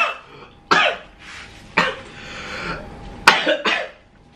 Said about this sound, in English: I'm only coughing because some honey is dripping down my throat.